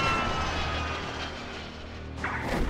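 Loud, continuous roar of a jet airplane engine as the jet stalls about 10 feet off the ground at an airshow, with a sudden rise at the very end.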